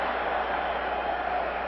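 Arena crowd noise from a 1991 alumni hockey game, a steady broad roar of spectators cheering, held evenly and fairly loud throughout with no distinct voices standing out.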